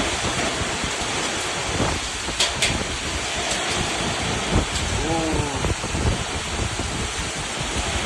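Summer rain with wind lashes a hillside village in Chalava, Edathanattukara: a steady roar of rain and gusts with occasional rumbles and a few faint bird calls in the background.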